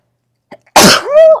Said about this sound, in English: Uh-oh, I'm about to sneeze.